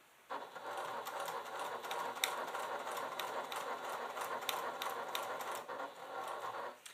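A sewing machine fitted with a Teflon foot, a size 90-14 needle and Tex 45 thread stitches Italian lambskin leather in a continuous, even run of rapid mechanical clatter, close and steady from start to finish.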